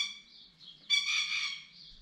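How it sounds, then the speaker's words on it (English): Birds calling outdoors with bright, repeated chirping whistles, quieter at first and then louder and busier for about a second before easing off, heard alone with no talking. "the birds are getting noisy around here"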